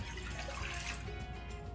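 Warm water pours steadily into a container for pita dough, a continuous close splashing rush that lasts throughout with no talking.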